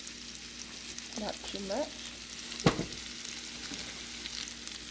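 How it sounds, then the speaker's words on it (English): Diced potatoes fry with Mexican chorizo in a pan for a breakfast burrito, giving a steady, close sizzle. A brief spoken remark and a sharp utensil clack near the middle rise over the frying. "I added my potatoes, diced potato"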